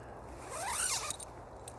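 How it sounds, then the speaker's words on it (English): A YKK zipper on a sleeping bag is pulled in one quick, close stroke, a bright rasping zip that swells and fades within about a second. "And you got a YKK zipper."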